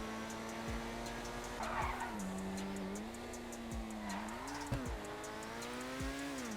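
An unreleased DLC car in GTA Online revs and accelerates through repeated gear shifts, its engine tone climbing and dropping in waves, with brief tire skids, heard close and steady with no talk.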